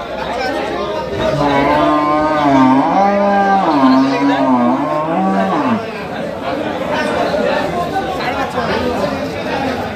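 An improved-breed dairy cow with her calf at the Kaharol cattle market lets out a long, drawn-out moo, close and loud, while buyers and sellers chatter and talk around her.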